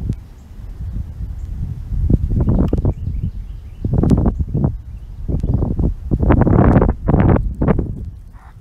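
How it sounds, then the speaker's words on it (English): Gusts of wind buffet the microphone in loud irregular bursts, with a constant breezy rush between them, while flying a Hubsan Zino Pro Plus drone about 100 feet up. "Kind of a windy day."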